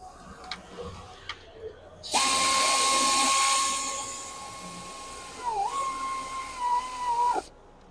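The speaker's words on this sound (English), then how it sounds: "take my 1/4-inch air ratchet here" A 1/4-inch air ratchet running in a close, high-pitched whine for several seconds while working on a transmission filter replacement on an Acura TLX Type S, with a slight dip in pitch near the end before it stops.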